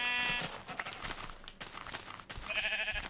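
Minecraft sheep bleat in brief wavering calls, one at the start and another near the end, with quiet game noise in between.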